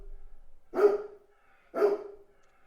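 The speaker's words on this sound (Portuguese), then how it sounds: "o César, meu cachorro, tá latindo" A pet dog barks twice indoors, two sharp, fairly loud barks about a second apart, with quiet between them and no talking.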